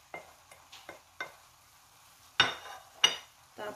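Shredded carrots being stirred into cooked meat in a pan as spring roll filling, with a series of separate scraping, rustling strokes and two sharper clatters, near and fairly quiet.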